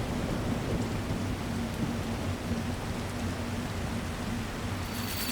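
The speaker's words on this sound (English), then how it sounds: "now there's a storm" In the survival game The Last Caretaker, a thunderstorm brings steady heavy rain with a constant low thunder rumble. The dense wash is unbroken throughout, with no voices.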